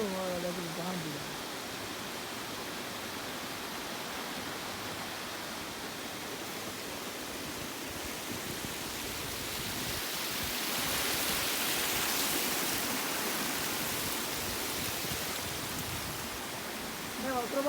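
Pahanthudawa waterfall in Sri Lanka gives off a continuous rushing roar, steady and close, swelling slightly partway through, with possible faint voices mixed into the noise.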